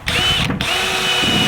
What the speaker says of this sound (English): Don't worry if you drill all the way through, because you're going to weld them up anyway.